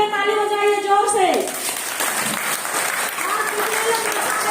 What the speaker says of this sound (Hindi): अपने लिए ताली बजाइए जोर से